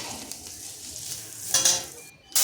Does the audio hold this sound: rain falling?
no